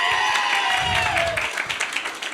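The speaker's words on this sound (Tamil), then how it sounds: "அனைவருக்கும் ஒரு கைத்தட்டு கொடுத்துருங்களா?" An audience at a Tamil pattimandram debate event claps together, a crowded patter of hands that swells and then thins out toward the end, with a sustained tone ringing underneath.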